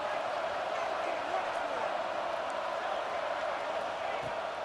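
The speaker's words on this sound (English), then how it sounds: "Listen to this crowd just shaking the girders of this place," Dense roar of a football stadium crowd cheering while the home defense is on the field, a steady loud wash of voices filling the whole stretch without letup.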